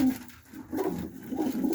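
Soft, low cooing from Pakistani high-flying pigeons, a couple of muffled throaty phrases close by in a quiet setting.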